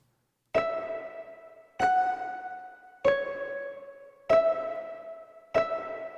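Plucked pizzicato strings blended with a metallic Wurlitzer electric piano in a pop track's riff, five separate sharp plucked notes, each ringing with a bright, decaying tone, evenly spaced and alone.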